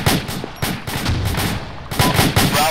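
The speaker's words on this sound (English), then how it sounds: "Slow down the rate of fire and start putting rounds out." Sustained rifle gunfire in a military video game: steady, rapid shots cracking in a regular rhythm close by, loud and continuous with short pauses between bursts.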